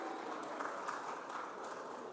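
Audience applause at a policy forum, a continuous, moderately quiet patter of many hands clapping, even and unbroken throughout.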